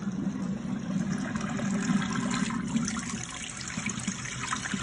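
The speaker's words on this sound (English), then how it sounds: "So it's all done by gravity, and it's emptying out the washer." Dirty water drains by gravity out of a portable washing machine used in an RV, a steady broadband rush and trickle with a low gurgling churn, close and continuous throughout with no talking.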